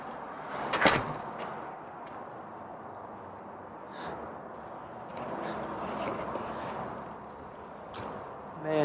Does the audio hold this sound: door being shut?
yes